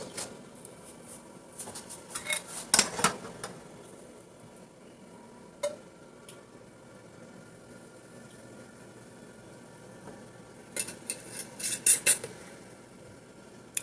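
Metal jar lids and tops clink and clatter in two bursts after filling jars with homemade bone broth, with a single sharper tap between them against a quiet room background.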